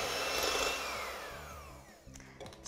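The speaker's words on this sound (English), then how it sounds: "Now I am using an electric whisk because I'm being lazy" An electric whisk creams butter and sugar for Easter cookies with a close, high motorised whir that slowly falls in pitch, then gives way to brief clatter near the end.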